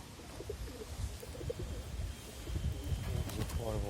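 Several pigeons coo softly in a loft, repeated low throaty calls layered over a dense background murmur of more birds, with a voice talking quietly alongside.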